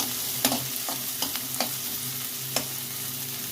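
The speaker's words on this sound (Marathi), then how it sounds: "तो कांदा ह्या लसूण मिरची आणि तेल यामध्ये टाकून घेतो आणि चांगला भाजून घेतो" Chopped onion, garlic and chilli fry in hot oil with an even, close sizzle, broken by a few short taps of a spoon stirring against the pan, and no one speaking.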